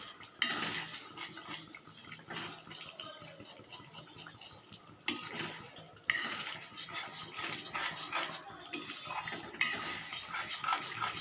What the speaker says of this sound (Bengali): দু থেকে 4 মিনিট আমি এভাবে মশলাটাকে কষিয়ে নেব লো ফ্লেমে